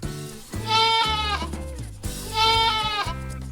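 A goat bleats twice, each call long, loud and wavering, with a short pause between them, heard alone and up close.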